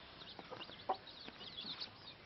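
A chicken clucks in a few short, soft calls close by, brief and fairly quiet against a faint background.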